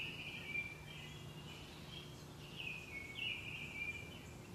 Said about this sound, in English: The birds return.